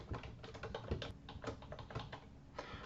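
Steady typing on a computer keyboard while entering a line of code for a database dropdown filter, with quick irregular key clicks and a few heavier strikes, close and clear, no talk.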